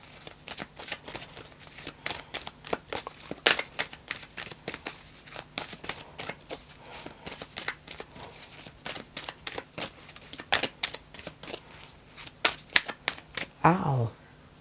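A deck of tarot cards is shuffled repeatedly during a reading, sharp riffling bursts and soft slides coming in irregular rhythm, close and fairly quiet, ending with a quick flutter.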